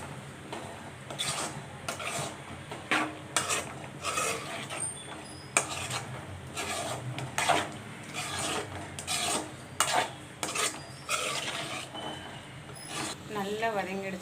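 Food being stirred and mixed in a pan, with repeated rhythmic scraping and rasping strokes of a spatula against metal, close and steady, with speech faintly underneath.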